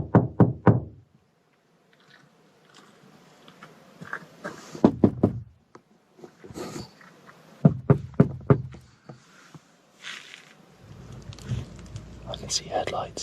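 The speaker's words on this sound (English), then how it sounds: "Loud, deliberate knocks slam against the side of his camper." Loud, deliberate knocks strike the side of a camper at night, delivered in several quick clusters of three or four sharp raps separated by pauses, with faint rustling and low whispering in between.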